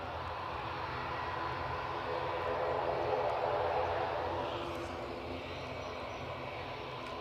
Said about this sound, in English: And there's the plane that's going to take its place at the gate.